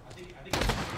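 Gunfire in the Modern Warfare gunfight mode, a sharp loud burst of shots breaking in halfway through after a quieter stretch.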